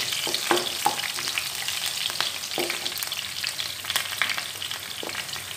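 Garlic and green chillies fry in a pan with a steady, close sizzle broken by small crackles and stirring scrapes, and no voices.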